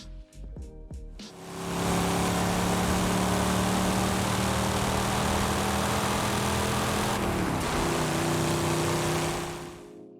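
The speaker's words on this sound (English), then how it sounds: "This particular iteration of the V10 in the R8 sounds a little bit more beefy than the others" An Audi R8 V10 fitted with an upgraded intake and exhaust, in Forza Horizon 5, fires up with a few sharp revs and then holds a loud, steady, droning roar close by, alone.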